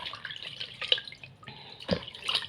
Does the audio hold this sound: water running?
yes